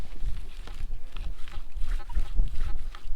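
A Minelab Equinox 900 metal detector gives its low, growling iron tone over a worked-out ancient field, rough and uneven across three seconds, with wind or ground scuffing underneath.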